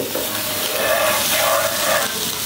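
Onions sauté in a pan, giving an even, moderately loud sizzle with faint stirring that holds steady throughout. No one speaks over it.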